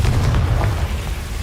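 A Confringo blasting spell explodes in a wizarding video game, a short heavy low boom with a rumbling tail that fades quickly.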